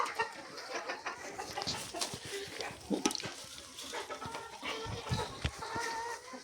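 Chickens cluck softly in short scattered calls amid a busy, rustling farmyard background.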